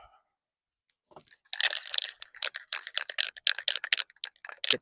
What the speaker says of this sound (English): get the can nice and shook up